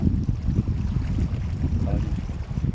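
Irrigation water rushes steadily through an opened gate at a fishpond farm, a close, loud, continuous watery roar mixed with wind buffeting the microphone.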